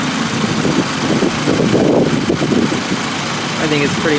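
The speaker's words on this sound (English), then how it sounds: "There's your boxer engine." A 2024 Toyota GR86 Trueno Edition's boxer engine idles with the hood open, a steady low, throbbing rumble close by while a person talks over it.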